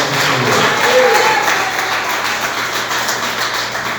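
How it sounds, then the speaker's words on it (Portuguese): A church congregation applauds together in a steady, dense patter of many hands, fairly loud and even throughout, with a faint voice briefly underneath. "Mais palmas para Jesus"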